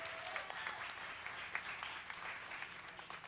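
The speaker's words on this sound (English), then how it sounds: "Give yourselves a round of applause for showing up." Steady applause from a crowd, continuous clapping with scattered sharper claps standing out, fairly distant and even throughout.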